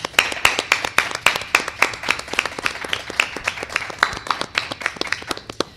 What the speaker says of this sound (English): Can we give a round of applause for our candidates